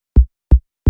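Spire synth patch with a short envelope decay, heard as three separate punchy, deep plucks that each thump and die away quickly, spaced evenly with silence between them.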